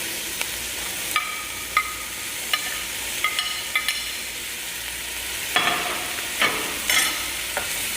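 Bell peppers stir-frying in a pan, a steady close sizzle with repeated sharp clicks and scrapes of a utensil stirring, some louder bursts near the end; no voices.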